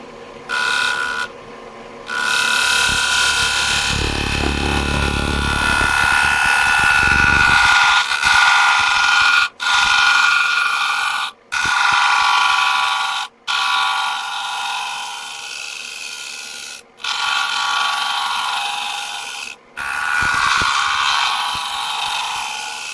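A wood lathe spins as a tool thins an ultra-thin turned bowl toward about one millimetre, a loud continuous whirring drone with a brief heavier cutting stretch, broken several times by short stops.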